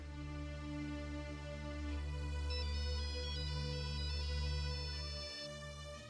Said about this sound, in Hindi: अंजना का फोन